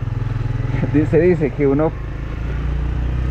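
A motorcycle engine runs steadily at a low idle hum, with a person speaking over it.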